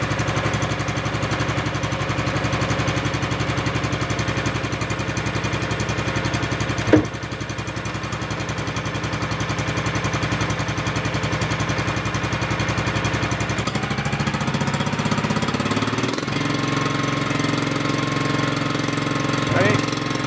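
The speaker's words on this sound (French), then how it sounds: "Le régime moteur a l'air plutôt correct" An engine idles steadily with a rapid mechanical clatter, briefly interrupted by a sharp knock, then the tone shifts slightly near the end.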